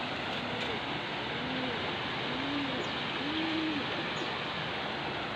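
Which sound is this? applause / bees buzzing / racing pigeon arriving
racing pigeon arriving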